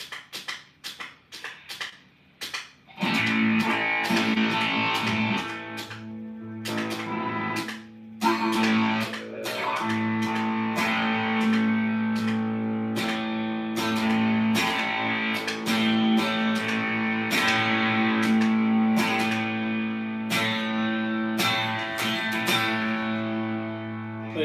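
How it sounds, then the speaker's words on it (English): Electric guitar through a distortion pedal, a few quiet picked notes and then loud, sustained distorted chords strummed in a steady rhythm, played alone up close. "distortion pedal."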